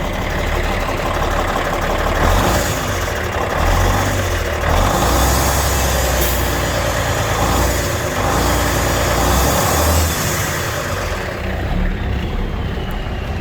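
A Kenworth K100E cabover truck, once a road tractor, idles with a loud, steady, close diesel rumble that holds without a break throughout.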